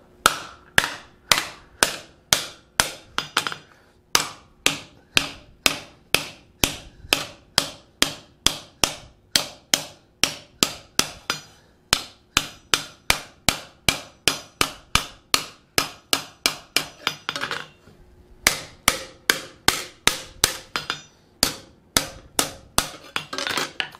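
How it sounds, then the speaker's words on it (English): A hammer forging a fold-formed metal bowl, striking the inside to open it back up: a long, steady run of dozens of loud, ringing metallic blows at an even pace, broken by a few brief pauses. "So I'm gonna go ahead and hammer on that. You can see how it's starting to open that bowl back up. Okay, and we'll hammer to the inside of the bowl."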